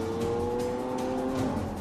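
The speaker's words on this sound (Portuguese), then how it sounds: "Todos os carros circulam nas estradas locais." A Lamborghini Aventador on a local road test gives a steady, close engine drone with a clear rising tone, holding at a constant level throughout the short moment.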